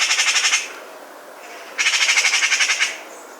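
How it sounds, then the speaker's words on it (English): Magpie giving harsh, raucous chattering calls in a suburban garden, two rapid rattling bursts separated by a short pause, loud and close with no other sounds. "Magpies have quite harsh calls and can be raucous when threats"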